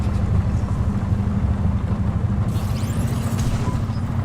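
A flying car's engine sputters out in the Cloudpunk video game, a steady low rumbling drone that carries on unbroken with a faint hiss above it.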